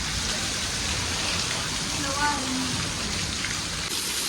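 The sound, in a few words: heavy rain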